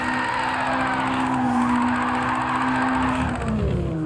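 A 200hp Nissan S13 with an angle kit drifts in Gran Turismo 7, tires squealing in a sustained, wavering screech over a droning engine, loud and close, pitch sliding near the end.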